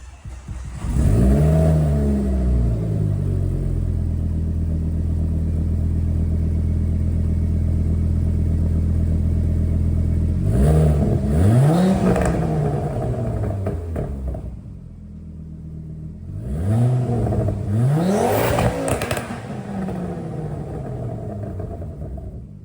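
A warmed-up Ford car engine idles steadily, then revs up sharply three times with rising and falling sweeps, heard close and loud with no talking.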